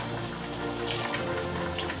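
Broth pours into a pot of lentils over high heat in a home kitchen, a continuous splashing liquid stream at close range with no talk.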